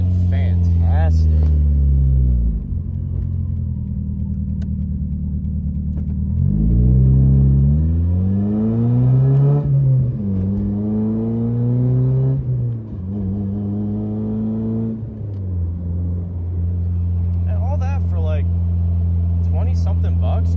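An NA Mazda Miata fitted with a cold air intake drives and revs, its engine note climbing and falling through several loud pulls over a steady low drone.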